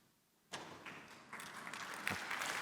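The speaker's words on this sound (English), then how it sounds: "Don't clap for me, I didn't do the hard work." Audience at a speaker program begins clapping abruptly after a quiet lead-in, the applause swelling and continuing as a moderately distant, fairly soft patter of many hands.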